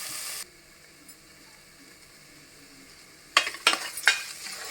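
Sliced onions fry in a pan on the stove for a mealmaker and drumstick curry, giving a steady low sizzle that turns into several sharp stirring scrapes and clatters near the end.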